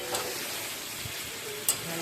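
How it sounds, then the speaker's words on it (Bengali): Masala spice paste frying in a pan while being stirred, a continuous close sizzle with a couple of sharp scraping clicks from the spoon. "দেখো মশলা কেমন কষা হয়েছে, একদম ভালো করে কষে নিতে হবে মশলাটাকে"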